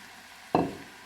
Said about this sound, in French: je vais mélanger viande hachée avec les légumes